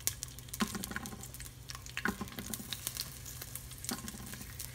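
Whole garlic cloves and onion frying in a hot pan for a gravy, a quiet, steady sizzle with scattered crackles and small pops close by, no voices.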